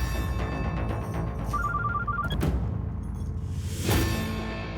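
A telephone rings with a short repeated electronic trill for an incoming call, fairly clear against a busy background with a whoosh and low boom afterward.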